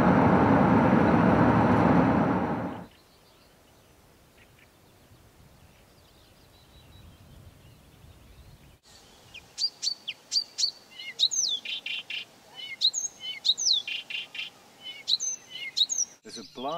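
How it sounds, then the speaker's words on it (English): A chorus of migrating birds in southern Finland makes repeated bright whooping and chirping calls, rhythmic and fairly close. A loud broadband rush comes first, then a quiet stretch before the calls begin. "So there's this beautiful chorus all the time of this wonderful whooping sound"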